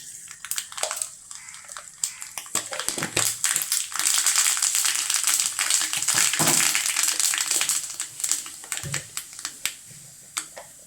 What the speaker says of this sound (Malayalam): എണ്ണ ചൂടായേ നമുക്കിത് കടുക് ഇട്ട് കൊടുക്കാം കേട്ടോ